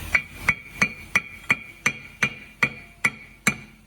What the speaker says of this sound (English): I hold on to this side and I hit this side with my hammer like this